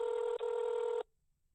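An outgoing telephone call rings back with a steady electronic ring tone, one sustained burst with a brief break, then cuts to near silence.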